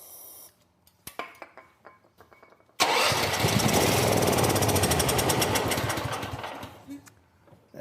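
A Champion generator engine primed with starter fluid fires after a few cranking clicks, runs loudly for about four seconds, then dies away.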